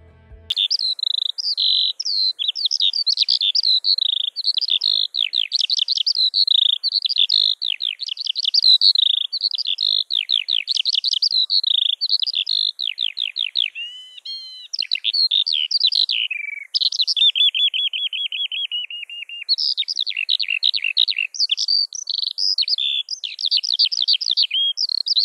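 Lark (Alauda) singing alone, a long, fast, continuous stream of high, warbling trills and chirps with brief pauses, close and clear against a quiet background.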